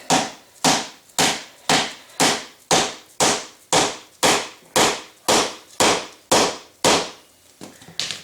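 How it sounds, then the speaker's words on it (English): Dead blow hammer repeatedly striking a reversed pry bar to break the bead of a motorcycle tire on a Honda Valkyrie front wheel, about fourteen sharp, loud, evenly spaced whacks, each with a short ringing decay. "Just take the pry bar, turn it backwards, a dead blow,"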